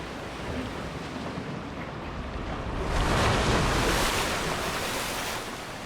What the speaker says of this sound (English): Got a log flume here.